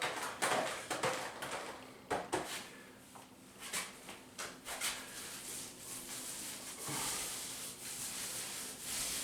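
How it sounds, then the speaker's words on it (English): Paint goes onto a freshly skim-coated drywall patch by a door knob with steady rubbing brush or roller strokes, close and soft, in a loose irregular rhythm. "So let's paint that now."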